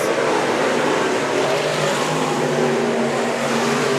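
Sport modified race car engines on a dirt oval at Antioch Speedway roar together in a dense, loud, continuous drone, with no talking.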